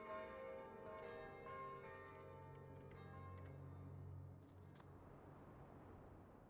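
Bells ring in the Kingdom Two Crowns video game, several faint chiming strikes with lingering tones that slowly fade, heard alone.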